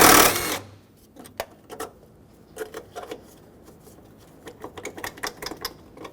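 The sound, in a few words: ratchet with extension and 8mm socket removing bolt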